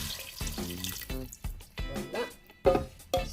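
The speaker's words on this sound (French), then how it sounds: "Et maintenant, donc, on va mettre le bouillon." Broth pours into a Cookeo multicooker for a vegetable and turkey pasta dish, a short wet splashing heard close up and broken by bursts of nearby speech.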